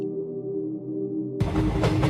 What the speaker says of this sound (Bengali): বনলতা জংশন পেরিয়ে ট্রেনটা ধীরে ধীরে উত্তরমুখী।